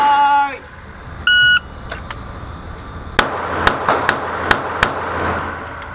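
Handgun rapid fire at an indoor shooting range during a holster-draw drill: a couple of electronic timer beeps, then a quick string of about six sharp, loud, echoing shots fired in fast succession.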